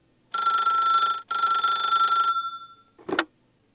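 An old-fashioned telephone bell rings in two long trilling bursts, loud and close, then a short clatter as the receiver is lifted.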